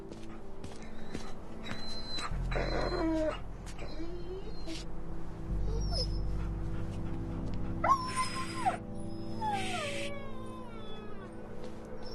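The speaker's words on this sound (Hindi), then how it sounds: "ये वार्डन्स का कुत्ता है" In a House of Cards drama scene, a dog whimpers with high, wavering cries and yelps over a low rumbling background, fairly close and intermittent.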